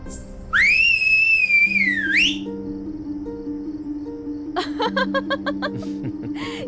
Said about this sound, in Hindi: तुम्हारी सीटी सुन के सारे शहर की लाइट चली गई